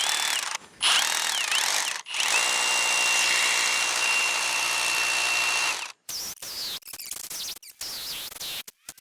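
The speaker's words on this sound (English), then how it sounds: "let's get these last 2 holes here drilled in" Bauer 20V brushless 1-inch SDS rotary hammer drilling a hole in concrete, a loud, close, sustained hammering whine for several seconds, followed by short bursts and handling noises.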